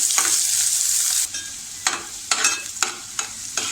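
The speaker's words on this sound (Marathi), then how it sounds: "हा बघा, आपला कांदा छान परतून झाला आहे." Onion sautéing in a pan for a cabbage masala makes a continuous close sizzle at first, then several distinct scraping stir strokes rhythmically break the frying hiss.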